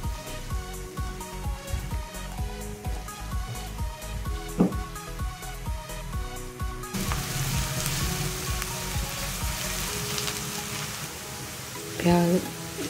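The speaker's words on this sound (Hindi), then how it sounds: "प्याज को यहाँ पे हम फ्राई करेंगे इतनी देर तक कि इसमें प्यारा सा गोल्डन सा कलर आ जाए" Sliced onions frying in a pan for aloo shimla mirch, a steady close sizzle running throughout that grows denser and more crackly partway through, with a brief clatter near the end and music underneath.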